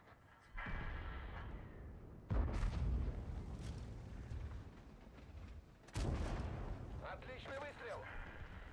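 Tank cannon shots in a tank video game, three heavy booms spaced a few seconds apart, each with a sharp onset and a long rumbling tail, among low in-game background noise.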